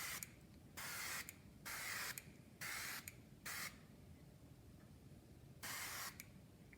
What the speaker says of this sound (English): I am going to spray just a little bit of canola oil on there